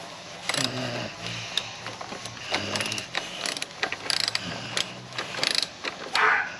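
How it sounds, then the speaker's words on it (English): A ratchet wrench loosens the rear wheel nut on a JR50 race motorcycle, giving bursts of close, rapid metallic clicking separated by short pauses. "You wanna do the ratchet?"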